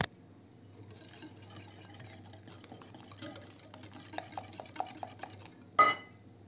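Sugar and vanilla mixture whisked in a bowl while making soft breakfast sweets, heard as a steady soft scraping with light taps and clinks against the bowl, ending in one louder knock.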